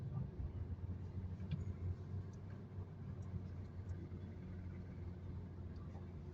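Steady low rumble of street traffic near Quiapo Church in Manila, a busy passenger loading and unloading area, with cars and engines droning continuously at moderate distance and no clear voices.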